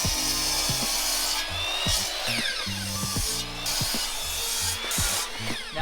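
Wood pieces being cut with a saw, heard as a close, loud run of steady rhythmic back-and-forth strokes with no talking.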